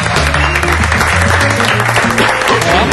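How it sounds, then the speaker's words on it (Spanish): Loud, dense audience applause welcoming a magic-and-comedy performer at an evening show, a sustained wash of clapping that holds steady throughout. "le queremos dar un fuerte aplauso"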